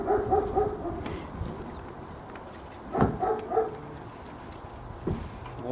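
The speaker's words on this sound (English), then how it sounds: "Wolfie is barking at Captain Ron" A dog barks from aboard a catboat at a boat yard, a few short barks spaced out over steady low background noise, moderately close.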